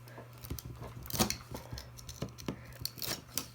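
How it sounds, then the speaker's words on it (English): A rotary cutter with a dulling blade slices through fabric for a daffodil wreath, a run of close, sharp rolling cuts with a steady rhythm and a low hum underneath. "it's almost time for a new blade in my rotary cutter"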